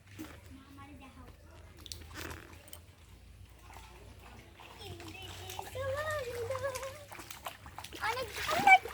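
Children splash about in cold rainwater, making intermittent wet splatters that grow louder toward the end, with children talking and calling out throughout.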